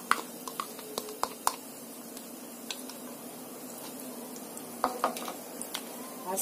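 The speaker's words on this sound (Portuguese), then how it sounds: "Vou estar colocando só um pouquinho de óleo, só um pouquinho de óleo mesmo para dar uma refogada nos temperos. Primeiro vou estar colocando o alho." Chopped garlic sautéing in a small amount of oil in a pan: a steady, soft sizzle runs throughout, broken by scattered sharp clicks and taps of a utensil against the pan.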